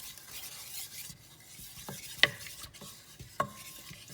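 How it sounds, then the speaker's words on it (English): Flour is stirred in a pan over low heat. A soft, steady scraping runs throughout, broken by two sharp metallic clinks of a utensil against the pan, with no voices. "Keep it on a low heat, otherwise you will probably burn your flour. I'm just going to start by mixing that."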